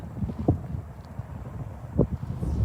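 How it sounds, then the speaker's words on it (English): Wind buffets an outdoor microphone, a low, steady rumbling roar with a couple of stronger gusts, faint thuds mixed in and no talking. "It's windy."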